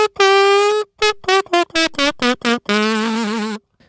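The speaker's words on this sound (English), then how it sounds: "So the kazoo in itself sounds like this into my speaking mic." A bright, nasal kazoo buzz played close to a microphone: one long held note, a run of short choppy notes, then a final sustained tone.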